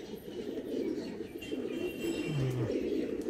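Andhra high-flying pigeons coo softly and repeatedly in a loft, a low rolling murmur close by with faint background noise.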